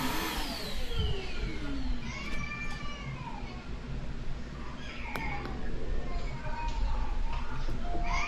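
A household vacuum cleaner drones steadily through a microphone test, with a cat meowing in rising and falling calls over it and faint background voices.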